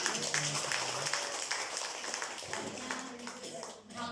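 Scattered clapping from a church congregation, fairly faint and uneven, fading toward the end with some murmuring voices mixed in.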